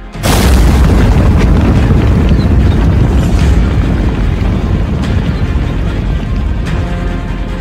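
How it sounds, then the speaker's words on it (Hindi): A deep, sustained roar from a long-range missile strike in the Russia–Ukraine war, starting abruptly and rumbling loud and continuous for several seconds, with no voices. "ज़ेलेंस्की ने कर दिया लॉन्ग रेंज मिसाइल का धमाका?"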